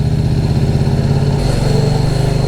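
A KTM RC8R sport motorcycle engine runs steadily up close, a loud low rumbling drone with a slight shift in tone partway through.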